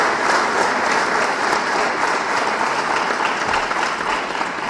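An audience at a Pashto poetry mushaera gathering in Malmö claps steadily in a dense, continuous wash of applause that stays loud and even for several seconds, with no voices standing out.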